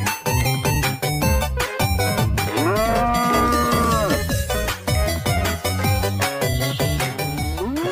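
A toy dancing robot cow plays loud electronic music with repeated synthesized moo sounds over a bouncy beat, close and continuous.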